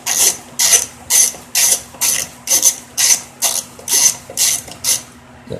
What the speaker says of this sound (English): Okay, this is a 5/16 socket that I'm using.